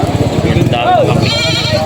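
At a goat market in Padre Garcia, Batangas, a native Tagalog goat gives a single clear, wavering bleat close by, amid people talking and general market bustle.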